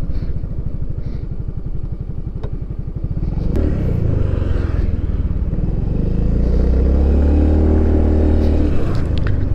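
Yamaha NMAX 155 v2 scooter ridden on a mountain road, its engine droning steadily up close, with a low rumble that rises and holds as it picks up speed.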